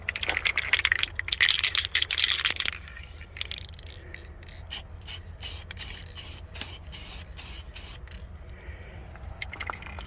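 A spray can applying clear coat to a faded car finish, an opening hiss of spraying lasting a couple of seconds, then a series of sharp clicks and rubbing scrapes, close up.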